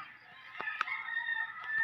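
A rooster crows at a moderate distance, a drawn-out ringing call with a few soft clucks and knocks around it.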